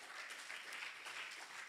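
A church congregation applauds, a steady, continuous wash of many hands clapping at moderate distance throughout, without other voices standing out.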